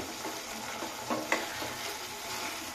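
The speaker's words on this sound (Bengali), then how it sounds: "এইভাবে এটাকে কষাতে থাকবো ঢ্যাঁড়সটা দিয়ে" Okra being gently stir-fried in a pan, a low continuous sizzle broken by a couple of light scraping strokes of the spatula.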